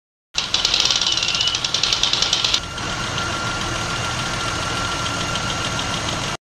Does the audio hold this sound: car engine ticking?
yes